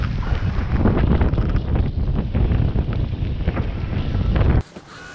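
Strong wind buffeting a solo sailboat flying a spinnaker in 15–20 knots with strengthening rain and fog, a loud, steady roaring rush with gusting surges that cuts off abruptly near the end.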